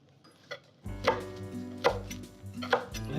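A knife cuts scallions and asparagus into pieces on a board, giving three or four distinct, close chopping knocks at an uneven pace after a soft tap.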